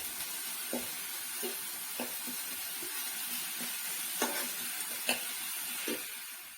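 Eggplant fries in a small amount of oil with whole spices, giving a steady bright sizzle throughout, broken by several soft clicks and scrapes of stirring, close and moderately loud.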